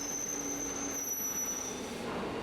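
An underground subway train's wheels squeal with sustained high-pitched metallic screeching as it brakes into a station, steady and fairly loud over rumbling rail noise.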